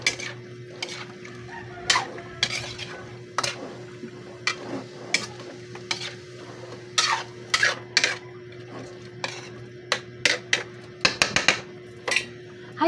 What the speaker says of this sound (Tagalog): lalagyan ko po siya ng asukal. Kaunti lang po. Asukal po na pula. Mix na po natin. Haluin.